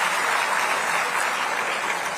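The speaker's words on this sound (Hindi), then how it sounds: "यहां ऐसी ताली सुनी इतने दिनों बाद कि मजा आ गया" A crowd at a Rajasthani community gathering in Guwahati fills a hall with loud, dense, continuous clapping, steady and alone without voices.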